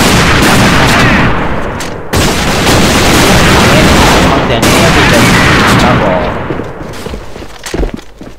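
Rapid gunfire in the online shooter AVA: dense, continuous bursts of shots and booms that fill the whole stretch, briefly cutting out twice, then thinning and fading near the end.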